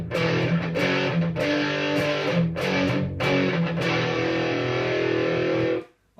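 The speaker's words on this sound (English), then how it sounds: "next pedal is distortion pedal" Heavily distorted electric guitar played through a distortion pedal, chords and riffs with short breaks between phrases, then a final sustained chord fades out at the end.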